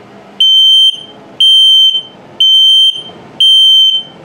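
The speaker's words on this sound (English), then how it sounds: "Carbon monoxide test coming up. Good, and also the low battery alarm coming up." An RV carbon monoxide and low-battery alarm under test in a 2022 travel trailer, sounding four loud, piercing electronic beeps at an even one-second pace, close and alone.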